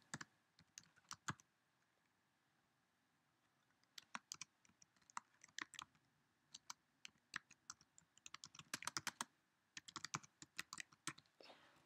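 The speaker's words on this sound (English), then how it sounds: "Clicking here, I type." Typing on a computer keyboard during a spreadsheet tutorial, heard as sharp clustered key clicks in quick bursts with short pauses between them, close and fairly quiet, with no talking.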